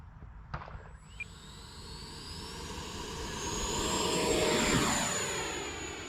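An E-flite Viper RC jet airplane flies past, its ducted-fan whine rising and swelling louder as it approaches, with a sweeping pitch change and a steady roar near the end.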